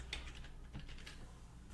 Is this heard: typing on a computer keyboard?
yes